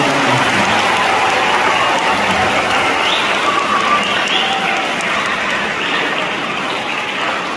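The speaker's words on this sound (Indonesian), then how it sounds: "Kita berikan tepuk tangan untuk" A congregation at a parish priest's installation ceremony in Witihama claps for the new priest, Romo Ardi, producing a dense, loud, continuous applause with crowd murmur and some cheering mixed in.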